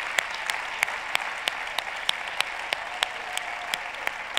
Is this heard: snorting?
no